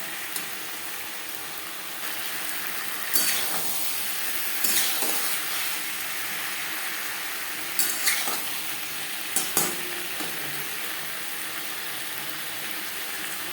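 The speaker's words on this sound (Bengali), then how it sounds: "মশলার সাথে সবজি ভাজবো হাই ফ্লেমে।" Vegetables fry with spices in a pan over high flame, a steady hiss of sizzling broken by several sharp scrapes and clinks of a spoon stirring, close and moderately quiet, with no talking.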